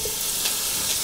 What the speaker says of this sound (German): dass wir unsere Sucuk hier drin erstmal kräftig anbraten.